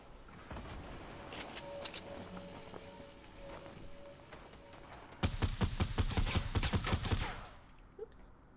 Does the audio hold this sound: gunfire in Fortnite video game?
yes